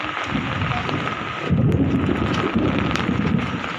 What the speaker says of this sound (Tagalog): Grabe kulog oh.